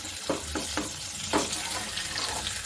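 Thick undhiyu being stirred in a pan with tomato gravy and spice masala, giving soft repeated scraping and wet sizzling strokes over a steady frying hiss.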